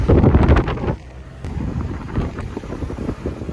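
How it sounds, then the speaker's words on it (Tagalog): Strong typhoon wind with rain roars and buffets the microphone in heavy gusts, easing slightly then rising again, with no voices. "Lakas ng hangin tas ulan."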